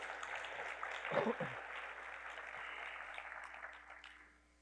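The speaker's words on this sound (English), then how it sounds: "I think that deserves a round of applause too." Moderate applause from an audience, a steady patter of clapping that swells briefly and then fades out near the end.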